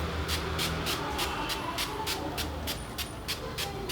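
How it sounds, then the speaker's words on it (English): Primer water spritzed from a pump bottle onto a face in a run of about eight to nine quick, evenly spaced hissing sprays, close and crisp over a soft background. "So I'm gonna just spray all over my face."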